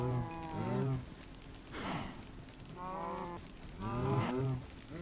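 Minecraft cows moo in a game, three drawn-out bovine calls spaced a few seconds apart, fairly loud and close with no talking over them.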